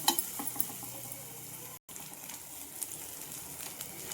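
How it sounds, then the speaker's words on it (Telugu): Onions and green chillies stirring in two spoons of hot oil in a pan for an Andhra-style gongura chicken curry, giving a steady close sizzle with light scraping, briefly cutting out once midway. "టూ స్పూన్స్ ఆయిల్ వేసుకుందాం ఆనియన్స్ వేసి ఒకసారి కలుపుకుందాం పచ్చిమిర్చిని వేసుకొని ఒకసారి కలుపుకుందాం"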